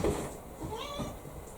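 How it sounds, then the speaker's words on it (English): House cat meowing in the background of a home office, a few soft, drawn-out meows close by with faint stirring, no speech over it. "So sorry if you hear meowing in the background."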